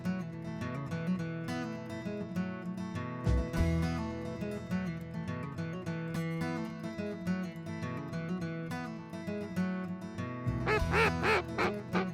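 Ducks quack at an Arkansas duck-hunting spot, with many overlapping calls that carry on continuously at a steady, moderate level and swell louder near the end; nobody speaks.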